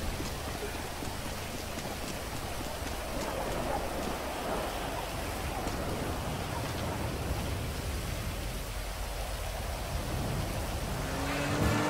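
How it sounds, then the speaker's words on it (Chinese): Heavy rain in the video game The Division 2 makes a constant, even hiss of downpour that stays steady throughout, with no voices over it. "在暴雨天气跑步过程中"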